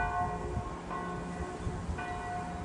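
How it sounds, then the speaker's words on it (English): A church bell rings out from a distant hilltop steeple near Borgo alla Collina, its steady tolled strikes faint and hazy over a constant outdoor background hum. "Oh, you can see the bell swinging."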